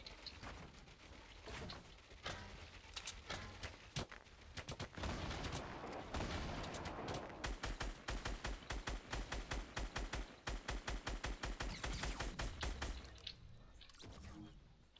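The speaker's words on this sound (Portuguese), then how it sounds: "achei que ficou muito gostoso o barulho do tiro" Rapid bursts of Fortnite gunfire crackle in dense volleys, with mechanical clicks and reloading sounds between, loud and nearly continuous throughout.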